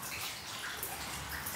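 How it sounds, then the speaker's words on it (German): Water drips and trickles from the ceiling of an abandoned, mould-ridden holiday-park building, a faint, continuous wash of dripping and splashing with no voices. "Hier tropft es überall rein."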